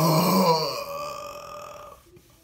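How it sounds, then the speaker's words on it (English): A single loud, drawn-out burp, rumbling and fading over about two seconds, heard alone within an Angry Birds Space game. "I think that was a loud old burp."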